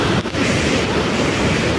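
Iguazu Falls in Brazil roars with the river in high flow, a loud, steady wash of rushing water and spray that fills the scene without a break.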